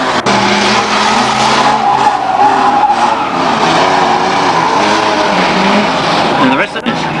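A banger race car at Ringwood Raceway in 1998 spins out sideways and skids, with loud engine roar and tyre scrubbing amid the racing field while a commentator talks over it.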